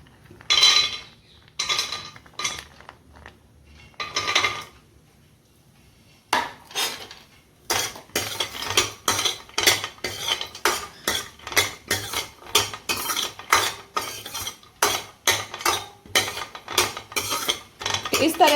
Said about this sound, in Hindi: अब मैं एक कढ़ाई में 1 चम्मच घी डालकर काजू, बादाम और छुआरों को भूनूंगी।